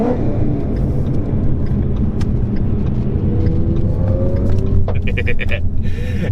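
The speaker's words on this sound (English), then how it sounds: "Let's give this 350 a rev." A 350 engine fitted with a Corsa exhaust and running a 93-octane tune gives off a loud, steady, deep rumble that holds throughout with little rise, close up and with no talking.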